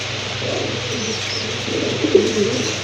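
Giribaz pigeons give soft, low cooing at close range over a steady background hum, with a brief louder coo toward the end.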